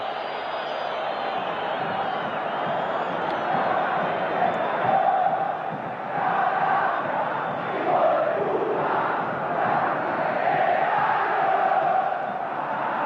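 Roaring football stadium crowd at a 1988 Superclásico between Boca Juniors and River Plate in Argentina, a dense continuous wall of chanting and shouting that swells and surges throughout, loud and far-reaching, with no clear voices on top.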